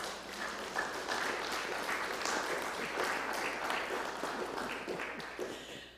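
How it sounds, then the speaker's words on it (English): Sustained audience applause, a dense wash of many hands clapping at steady loudness for several seconds, with no speech over it. "Please give yourselves a huge round of applause because you're amazing."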